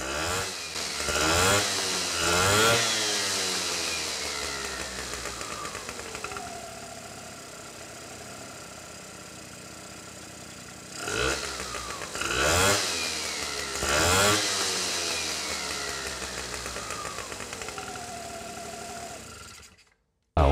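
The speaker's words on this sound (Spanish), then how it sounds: "escuchemos cómo mientras está variando, mantiene las RPM constante." A scooter engine on a dyno roller revs up and down in repeated surges, whining loudly then settling to a steady drone, close by with no talking.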